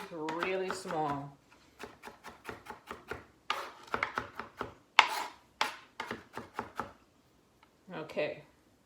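A knife chops ginger into small pieces on a board: a quick run of crisp, evenly spaced taps, close and fairly quiet, with a brief voice at the start and end.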